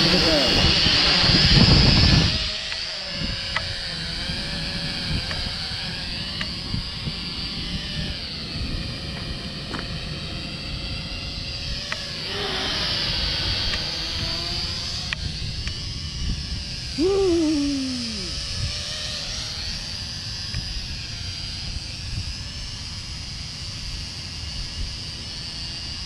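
A small drone flies in gusty wind outdoors near a car, its steady high-pitched motor whine running throughout over rushing wind noise, with a brief swoop of pitch partway through and people talking nearby.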